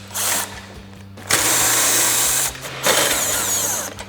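A 3/8-inch impact gun spins out 15 mm front bumper bolts on a 2021-2023 Ford Bronco, three loud whirring bursts at close range, the longest in the middle, separated by brief pauses with faint background noise.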